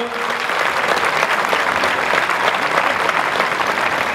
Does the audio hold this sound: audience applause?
yes